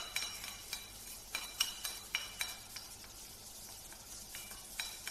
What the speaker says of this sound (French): maintenant on vient mettre notre poireau dedans, qui va venir suer également.